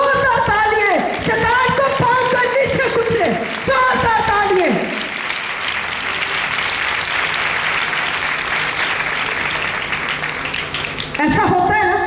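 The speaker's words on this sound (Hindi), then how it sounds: "जोरदार तालियां" Loud applause from a congregation at a prayer and healing service, a dense roar of clapping that swells and runs for several seconds after a voice shouts over the crowd, with speech returning at the end.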